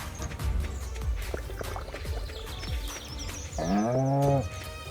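A cow in the farming video game Stardew Valley lets out one loud, drawn-out moo near the end, rising above busy game sounds with liquid pouring and dripping.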